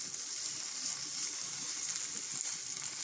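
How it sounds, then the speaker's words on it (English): Vegetables frying in a pan for Panamanian rice with stewed sausages, giving a continuous bright sizzle and hiss at even loudness throughout, close up with no talking. "Okay, so it's starting to sizzle. You can hear it."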